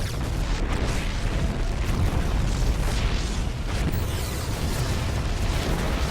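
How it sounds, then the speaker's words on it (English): Game explosions in StarCraft II: Heart of the Swarm make a dense, continuous roar of booming blasts, loud and steady throughout with no clear gaps. "The explosions have stopped."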